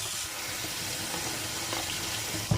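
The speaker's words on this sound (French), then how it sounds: "Et là on va faire couler de l'eau froide dessus." Cold tap water runs steadily from a kitchen faucet over drained quail eggs sitting in a colander, a continuous close splashing hiss with a small clatter at the end.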